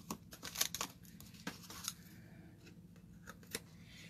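Scissors snip through tissue paper while trimming a handmade gift card: a quick run of close, crisp cuts with faint paper rustle, then a few sparser snips.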